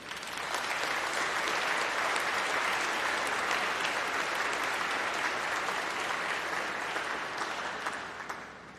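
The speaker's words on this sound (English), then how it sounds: "let's give a round of applause and a huge cheer to say thank you to all of your supporters" Sustained, dense applause mixed with cheers from a large crowd at a university summer degree congregation, thanking the graduates' supporters; the clapping holds steady for several seconds and then tapers off.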